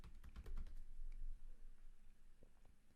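Quiet, close keystrokes clatter on a computer keyboard in a quick burst, then slow to a few scattered taps.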